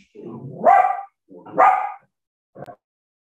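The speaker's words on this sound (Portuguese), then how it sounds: "Meu cachorro está latindo." A dog barks at close range: two drawn-out, howling barks followed by one short, sharp bark, with nothing else in the background.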